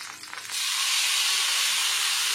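Marinated green fish is laid into oil on a dosa pan; after a brief quiet moment a loud, steady, broad hiss of frying takes over and holds evenly to the end.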